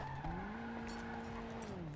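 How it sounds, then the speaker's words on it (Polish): A car engine in Grand Theft Auto Online revs and whines with rising and falling pitch, tires squealing briefly, steady and fairly loud throughout with a synthetic, game-like quality. "Dobra, słyszę jakiś samochód."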